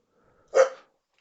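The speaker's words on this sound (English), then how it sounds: "And that's my dog barking, if you heard that." A dog gives a single short, sharp bark indoors, loud and close, surrounded by silence.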